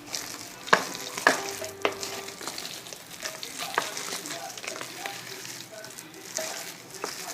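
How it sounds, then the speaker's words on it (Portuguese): A spoon stirs cod fritter batter mixed with beaten egg, giving soft wet scraping and irregular clinks against the bowl, close and moderate in level. "E continuo mexendo aqui. Vamos misturar bem esse ovo batido aqui."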